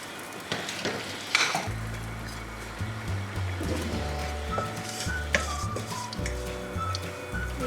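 Whole spices, curry leaves, dried red chillies, cumin, black pepper and cinnamon frying in a pot for beef mandi, a steady close sizzle with a few sharp crackles, overlaid by a low tonal hum from background music.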